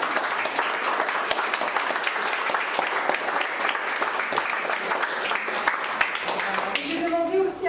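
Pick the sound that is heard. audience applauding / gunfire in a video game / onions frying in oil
audience applauding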